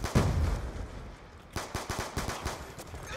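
Gunfire in the video game Black Ops 2: a heavy blast at the start, a lull, then a rapid burst of automatic shots in a quick regular rhythm, loud and close.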